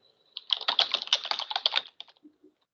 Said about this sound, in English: I'm typing the message.